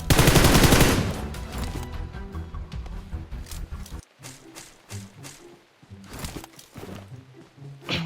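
Gunfire in the mobile battle-royale game PUBG Mobile: a dense automatic burst opens loud, followed by scattered single and clustered shots of varying distance amid quieter game noise.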